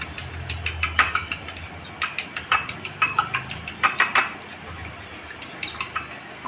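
An egg seasoned with black pepper and salt is beaten briskly in a bowl, producing a fast run of sharp, close clinks and taps in uneven bursts, with no voices.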